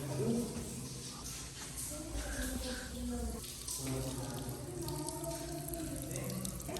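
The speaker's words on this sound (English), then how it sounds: "It's so wet here. It's dripping on me. The ceiling is dripping." Water dripping from the damp ceiling of a well, wet splashing and trickling with echoey background, faint and close, with some quiet voice sounds mixed in.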